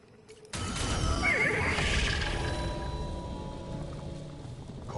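A video-game celestial horse gives a loud, drawn-out whinny that starts abruptly and fades slowly, with a faint mechanical creaking underneath.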